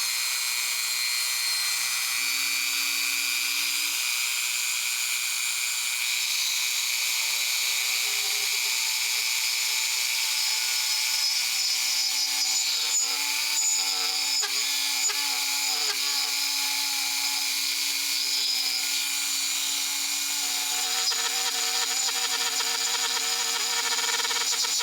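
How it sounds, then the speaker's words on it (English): A router screams steadily while cutting a channel into wood, a continuous high-pitched whine with a slight shift in pitch partway through. "it'd be better if I just route the channel first"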